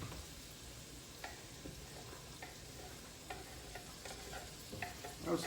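Garlic sizzling in a hot pan for collard greens, a soft steady fry with occasional scrapes and clicks of stirring, moderately quiet and close, with no voices.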